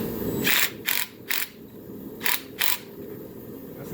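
A ratchet clicks in short bursts while an 8 mm socket snugs down hose clamps on a turbo 3800 engine going into a Camaro, five quick close ratcheting runs separated by brief pauses.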